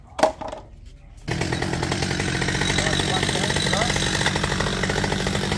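A loud chainsaw starts after a brief pause and runs steadily, cutting a short coconut tree continuously at close range with a rough, buzzing roar.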